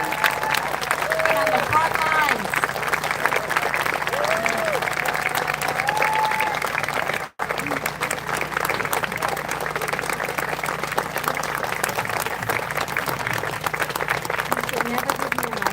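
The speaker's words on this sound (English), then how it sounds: "a little round of applause" An audience at a Democratic primary candidates' gathering in Oconee County, South Carolina, gives a sustained, even round of applause for an award recipient, with a brief break midway and someone speaking over the clapping.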